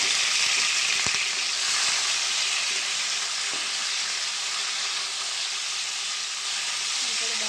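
Onions, tomato and green chillies frying in a pan, a steady, loud sizzle and hiss that carries evenly throughout, with a couple of faint clicks and no talking.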